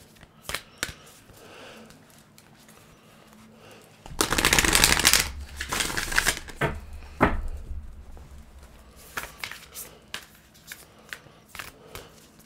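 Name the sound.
shuffling a deck of reading cards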